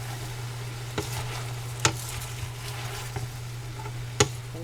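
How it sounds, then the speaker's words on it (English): Diced onion fries in a pot for jambalaya while being stirred: a quiet, even sizzle over a low hum, punctuated by a handful of crisp spoon knocks and scrapes spaced a second or two apart. "I'm going to stir it all up."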